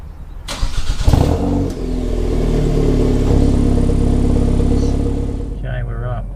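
Car engine cranks briefly, then catches and settles into a loud, steady idle close by, with a voice speaking near the end.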